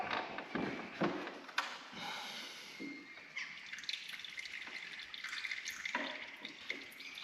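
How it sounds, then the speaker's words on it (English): Fluid drains from a Mercedes 722.6 automatic transmission, trickling and dripping steadily into a pan at close range, a faint watery patter with irregular louder drops throughout. "Draining out some of the fluid now."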